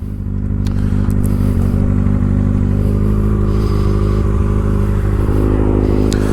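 A 2024 Kawasaki ZX-4RR or ZX-6R sport motorcycle with a freshly flashed ECU, its exhaust droning loud and close at a steady high idle with a rough, clattering edge.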